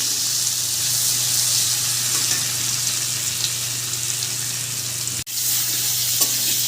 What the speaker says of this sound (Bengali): কচুগুলো লাল লাল করে ভেজে নেব।